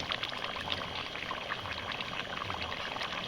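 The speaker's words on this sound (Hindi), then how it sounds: "ये हम दही डाल रहे हैं इसमें 150 ग्राम" Yogurt, about 150 grams, pours into a pot of desi chicken as it cooks, a steady soft wet trickle and sizzle that runs quietly throughout without talk.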